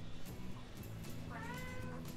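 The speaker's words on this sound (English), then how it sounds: "You may have heard the cat." A house cat gives a single drawn-out meow up close over a low background hum, quiet and with no talking.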